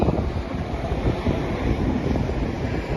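Strong wind buffets the microphone along the riverside at Clarke Quay in Singapore, a continuous loud low rumble with gusty fluctuations and no voices.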